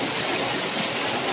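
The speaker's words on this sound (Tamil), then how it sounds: "தண்ணி எப்படி கொட்டுது பாருங்க, வேற லெவலில் இருக்கு." Palaruvi waterfall near Kutralam in Kollam, with water pouring down heavily in a dense, steady roar that fills the clip at close range, with no voices.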